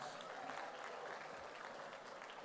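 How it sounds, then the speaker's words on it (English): College audience at a TEDx event applauding themselves, a steady wash of many hands clapping, fairly distant and quiet, continuing without pause. "you got to give a big round of applause to yourselves first"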